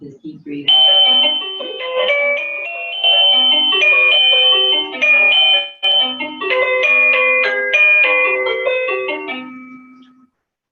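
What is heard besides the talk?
doorbell ringing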